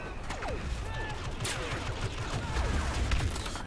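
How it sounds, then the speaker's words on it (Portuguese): Rapid gunfire and blaster shots crackle in a Star Wars Battlefront Walker Assault match, bursts layered over game mechanisms at moderate level while a player talks over it. "Caraca, tomando tiro!"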